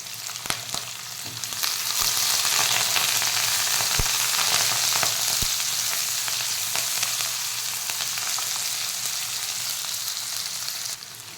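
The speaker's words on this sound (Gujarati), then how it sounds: "બટાકા થવા આવે ને એટલે આપણે ડુંગળી એડ કરી દઈશું. અને લીમડાનું પાન છે એ એડ કરી દઈશું." Onion and curry leaves sizzling in hot oil with potatoes for Gujarati-style poha, a steady bright frying hiss with a few sharp crackles and stirring clicks near the start, loud and close with no talk.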